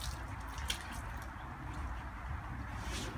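A water storage bottle is rinsed out with water, giving quiet continuous sloshing, dripping and gurgling, close and soft.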